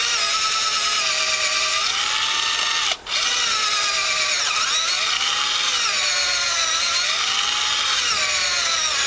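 A battery power drill bores into a rotted wooden picnic table, a loud continuous whine that rises and falls in pitch as the bit works, with one brief pause.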